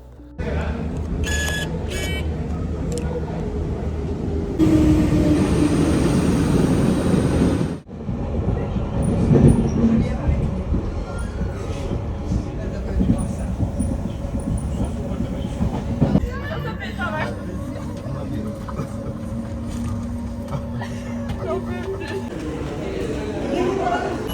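A Paris metro train rumbles and rattles loudly through its run, with a brief shrill screech and then a sudden drop as it slows; a person talks over the ride.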